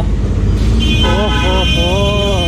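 A loud supercar passes along a Kolkata street amid traffic, with honking horns sounding over the engine and road noise; voices talk excitedly throughout.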